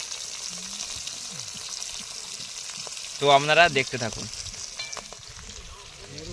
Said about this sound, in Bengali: মাছের মাথাগুলো কিন্তু আগে ভাজা হচ্ছে